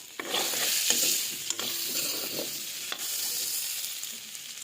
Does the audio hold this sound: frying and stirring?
yes